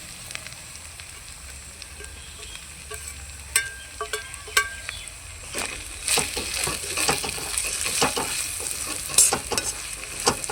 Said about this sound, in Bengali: মশলার সঙ্গে ভালোভাবে এটাকে নেড়ে চেড়ে দিচ্ছি